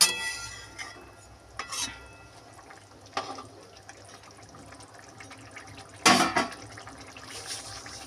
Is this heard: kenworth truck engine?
no